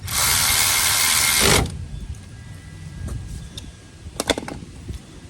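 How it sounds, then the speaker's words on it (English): Power tool or ratchet tightening brake caliper bolts on a 2008 Honda Civic: a loud continuous whirring burst for about a second and a half, then quieter clicks and clanks of tools. "Tighten up the caliper bolts."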